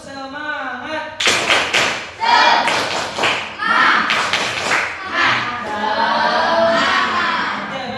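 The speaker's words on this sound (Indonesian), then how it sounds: "Satu kali lagi, tepuk semangat." Indonesian junior high school students in a classroom chant and clap a rhythmic spirit clap, bursts of loud group claps and thumps mixed with shouted voices, with a teacher's voice at the start.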